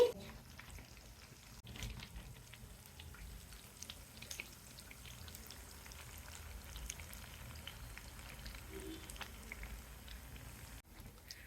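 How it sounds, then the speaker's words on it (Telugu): Sago vadas fry in a pan of oil with a faint, steady crackle and scattered light pops, low and close, with no voices. "చూడండి వేగుతున్నాయి"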